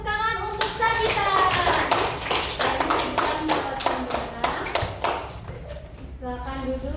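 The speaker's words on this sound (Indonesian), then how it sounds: "Kita beri tepuk tangan untuk Sabita." Pupils in a primary school classroom clap together for a classmate, a burst of fast, uneven hand claps close by with children's voices and a teacher's voice over and around it.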